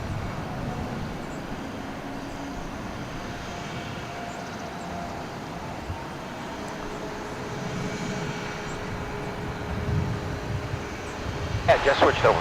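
An American Airlines Airbus A320 arriving at DFW International Airport, its engines a steady broadband roar heard from a distance that swells slightly near the end, with faint radio chatter mixed in.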